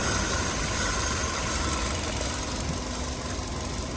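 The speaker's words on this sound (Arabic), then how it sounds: "محرك زي ما حضراتكم سامعين" A used Kia car with original factory parts and about 102,000 on the clock idles close by, a steady, even engine rumble with light vibration holding throughout and no talking over it.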